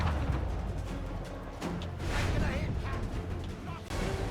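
Mortar fire from a boss ship in the pirate naval game Assassin's Creed Black Flag, heard as dull booming blasts and crashes amid a busy sea-battle din, with someone talking over it.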